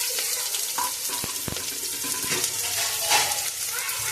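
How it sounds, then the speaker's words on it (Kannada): Sliced onions dropped into hot oil in a pressure cooker, a broad steady sizzle with a few soft clinks and stirring scrapes, close and continuous, no talking. "ಇವಾಗ ಅರ್ಧ ಎತ್ತಿಟ್ಕೊಂಡಿರೋ ಈರುಳ್ಳಿ ಹಾಕ್ತಾಯಿದ್ದೀನಿ."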